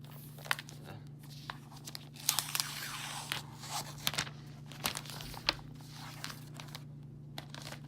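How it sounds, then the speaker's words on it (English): Plastic wrap comes off a 2018 Apple MacBook Pro 13-inch box, with scattered close crinkles, crunches and tearing bursts over several seconds against quiet room tone. "Let's take off the plastic."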